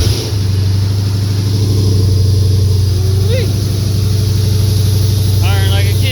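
A built, supercharged Ford Coyote V8 idles steadily just after its first start, a loud, low, even rumble throughout, with people talking over it.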